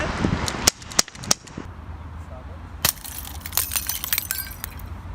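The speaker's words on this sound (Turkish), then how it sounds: "Evet, farklı bir kamera açısıyla şimdi güzel bir atış yapacağız" Several sharp cracks from an Ekol ES 66 full-metal air pistol being test-fired, spaced close together and nearby, followed by a louder crack with metallic ringing and clinks, with voices talking around the shots.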